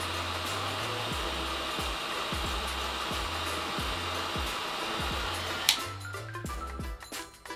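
Hair dryer running steadily on a low fan setting while styling hair into a center part, a constant whooshing airflow with low hum, close and continuous, cutting off near the end with a few handling knocks.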